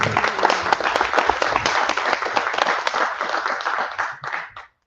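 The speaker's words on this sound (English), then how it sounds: "Another round of applause for Duke." A conference audience at an AI industry summit claps together in a full, even burst of applause that thins out and stops abruptly at the end.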